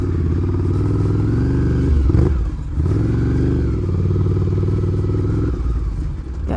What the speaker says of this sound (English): it's hard to go wrong with this air-cooled Desmo V-twin. It's a fantastic exhaust sound straight from the factory